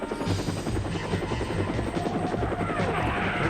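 Helicopter in a video game, its rotor beating in a loud, steady chop that fills the whole stretch without pause.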